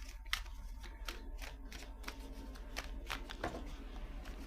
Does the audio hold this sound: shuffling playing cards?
yes